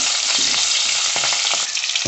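Garlic and green chillies frying in hot oil in a pan, a steady close bright sizzle with faint stirring scrapes and crackles throughout, no voices.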